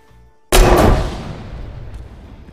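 A loud explosion destroying a cache in a video game: a sudden booming blast with a long rumbling decay that fades over two seconds.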